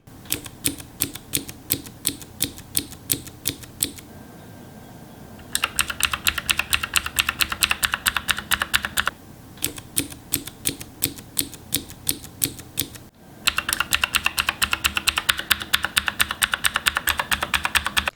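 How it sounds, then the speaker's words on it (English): Typing on a Redragon Kumara K552 mechanical keyboard with sharp, clicky blue-like switch keystrokes in fast bursts, separated by short pauses; close and crisp with no voices. "Take a listen and see how the keys sound compared to a Cherry blue switch."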